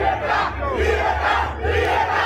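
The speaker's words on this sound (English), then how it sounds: "people they cheering in Venezuela." Large crowd in Venezuela cheering and shouting together, a loud continuous roar with waves of voices swelling and falling, no separate speech standing out.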